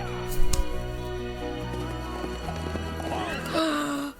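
Horse hooves clattering in a Hannah Montana movie scene, a short burst of quick clip-clop beats with a faint whinny, mixed under film music and talk.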